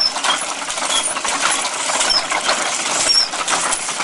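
A hand-cranked machine built entirely of wood, held together with glue and dowels and no nails or screws, giving off a continuous dense clatter of wooden parts as the crank turns, close and steady, with a few faint squeaks.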